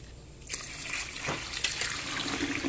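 Water pours from a container into a cooking pot holding glutinous rice for chicken arroz caldo, a close, steady splashing trickle that grows fuller after a soft start.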